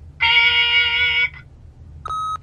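Two electronic tones from an answering machine in the video game The Wolf Among Us: a longer clean beep followed after a pause by a shorter one, loud and isolated over faint hum.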